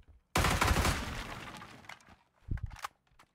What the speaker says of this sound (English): I'm gonna shoot then.